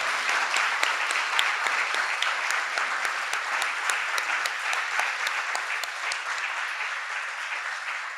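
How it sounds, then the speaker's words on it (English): An audience at an annual meeting award presentation claps in sustained, dense applause, loud and steady for the whole stretch with individual sharp claps popping out of the crowd wash, no talking over it. "join me for another thunderous round of applause for our Rochelle Lee awardees."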